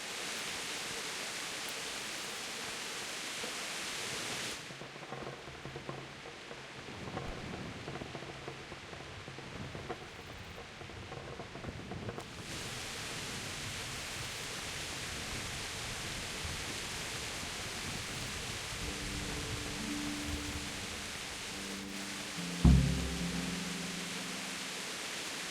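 Steady rain falling in the medieval game Kingdom Come: Deliverance, a continuous broadband hiss that briefly thins in the middle, with a single sharp knock near the end.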